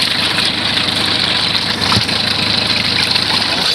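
A Mercury 9.9 hp outboard motor runs in forward gear with a steady, close idling drone and an even mechanical hum, plus one brief knock midway.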